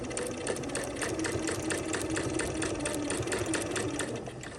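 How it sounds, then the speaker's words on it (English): A sewing machine runs steadily at a slow, even pace while stitching a pajama shorts waistband, a close continuous whir with a regular needle rhythm from start to end and no talk. "So notice how much slower I'm sewing compared to how you've seen me sew in the past videos."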